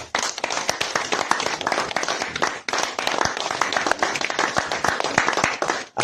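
A church congregation at a prayer camp claps together in sustained, dense applause, many hands slapping in a loose rhythm for several seconds, loud and close, with a brief dip before it resumes.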